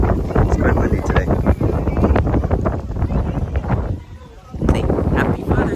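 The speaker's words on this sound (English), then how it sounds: "It's quite windy today." Wind blows outdoors on a blustery day, buffeting the microphone in heavy rumbling gusts that ease briefly near the end before surging again, with voices mixed underneath.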